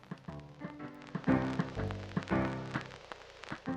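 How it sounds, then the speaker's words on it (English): A phonograph record played too slow in the Paper Mario video game: a short, quiet stretch of dragging game music with low, smeared tones and uneven plucky hits, no voices. "and too slow sounds like this."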